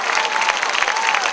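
A church congregation claps energetically, dense and loud across a short burst, with crowd noise mixed into the applause.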